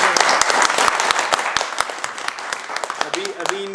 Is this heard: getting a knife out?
no